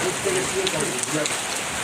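Steady rain falls in a sparsely settled rural stretch between villages, a continuous dense patter on surfaces that fills the short stretch, with no voices heard.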